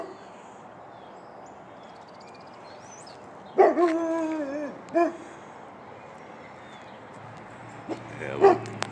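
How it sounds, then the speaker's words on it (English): A couple of dogs bark outdoors in the early morning, a few sharp yipping barks in two short bursts and a later one, moderately distant over a steady ambient hiss. "I guess I'm disturbing a couple of dogs here."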